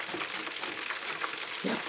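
Kakiage tempura of corn and shrimp deep-fries in hot oil, giving a steady close crackling sizzle with a few brief bursts of bubbling.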